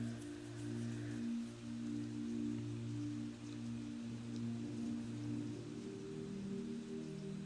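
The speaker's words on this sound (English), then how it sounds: "Yeah, it's really raining here." Freezing rain falls in a steady, even patter that holds at a constant level throughout, with a low hum underneath and no voices.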